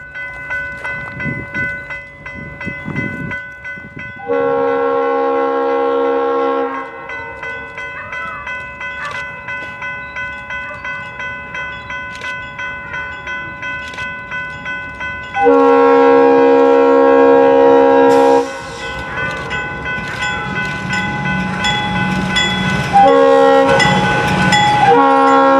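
A BNSF local freight train passes Vine Road on the Union Pacific Chester Subdivision in southern Illinois, sounding several long, loud horn blasts over the continuous rumble and rattle of the moving cars, with no voices.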